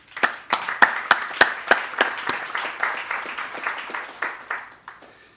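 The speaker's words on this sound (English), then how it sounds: "you certainly deserve to give yourselves a round of applause" A conference audience applauds in a hall, with sharp, fairly loud claps landing in a steady rhythm that gradually softens and tapers off over about five seconds.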